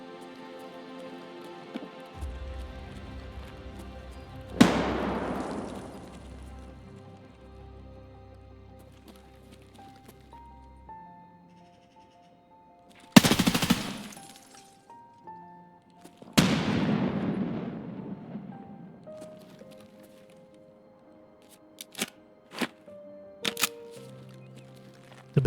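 Grenade blasts and gunfire in the shooter game Escape from Tarkov: three loud, booming explosions with long rumbling decays, followed near the end by a few sharp, isolated gunshot cracks over quiet ambience.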